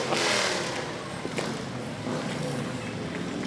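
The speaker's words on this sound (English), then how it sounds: "I can feel the revving of the engine in my chest." Harley-Davidson motorcycles rev their engines during the Raleigh Christmas Parade, a loud, steady rumble of engine noise that surges near the start and holds for a few seconds with no talking.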